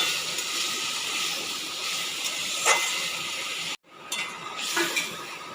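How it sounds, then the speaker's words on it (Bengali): Ground spice paste for a fish-head and red amaranth chorchori sizzles in a pan as water is splashed in, a loud continuous steamy hiss that cuts out for a moment and then surges again. "একটু হালকা করে জল দিয়ে দিয়ে একটু হালকা করে কষিয়ে নিতে হবে"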